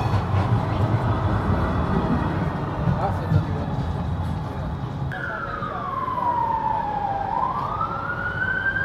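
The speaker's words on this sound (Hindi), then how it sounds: "ये यहाँ का ट्रेम है जो" A Croydon tram passes along a London street, giving a steady low rumble under street noise; a squealing tone slides down and then rises as it goes by, fairly close.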